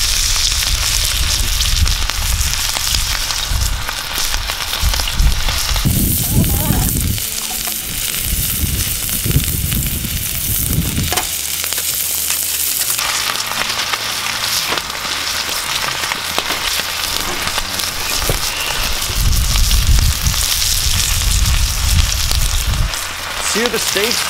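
Steaks searing on a barbecue grill give a loud, continuous sizzle and crackle throughout, with bursts of talk and clatter partway through.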